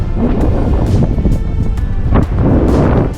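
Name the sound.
valley wind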